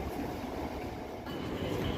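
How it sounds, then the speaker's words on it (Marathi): A moving passenger train heard from inside a carriage, giving a steady broadband rumble with faint rattling that holds at a constant level throughout. "गाईज ट्रेन चालली पण"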